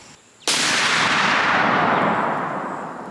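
A single loud, close rifle shot from a .300 Win Mag firing Core-Lok ammunition over a chronograph outdoors: a sudden sharp crack followed by a long, slowly fading rolling echo. No speech.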